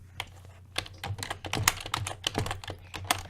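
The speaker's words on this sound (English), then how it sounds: "Type brown." Quick, uneven keystrokes clatter on a computer keyboard, close and quiet, a short burst of typing with no voices.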